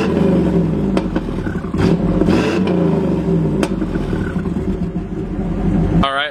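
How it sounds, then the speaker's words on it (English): V8 car exhaust revved up close by, a loud throaty engine note with a couple of sharp throttle blips rising over a rough idle, followed by a brief clatter at the end. "Let me get an exhaust rev for you guys too"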